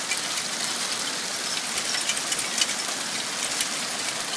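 Pea-sized hail pours down in a heavy storm, a dense, loud, continuous hiss of small stones striking surfaces with scattered sharper impacts.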